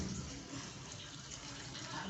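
Boiled water poured into a pot of plantain porridge, a steady broadband gush of liquid running continuously and fairly faint throughout.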